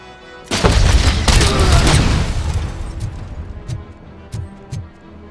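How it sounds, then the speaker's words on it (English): Grenades explode inside a building in the game RoboCop: Rogue City. A big, loud boom rolls into a long rumbling decay, and a few smaller pops and thuds follow as it fades. "they're throwing fucking grenades like a crazy"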